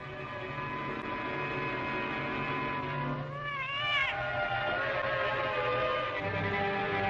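Cat meowing once, a brief mid-pitched wavering meow standing out over a steady electrical hum, with no other sounds around it.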